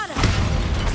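A Bombarda blasting spell from the video game Hogwarts Legacy goes off as a loud, dense, rumbling burst that fills about a second without pause.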